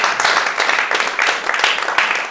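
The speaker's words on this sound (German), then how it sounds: "Applaus für Gott" A church congregation bursts into steady, close applause during a bilingual worship service, a thick wash of clapping hands that carries on without pause.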